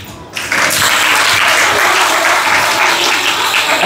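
A crowd at a Republic Day gathering in India bursts into loud, dense applause after a patriotic recitation and speech, the clapping starting abruptly and holding steady with no voices on top.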